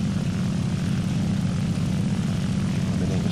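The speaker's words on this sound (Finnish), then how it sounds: "kyllä yksi vihollisen lentokone tulee suoraan kohti" Enemy aircraft closing in during a War Thunder tank battle, a steady loud propeller-engine drone holding constant throughout, with no voices over it.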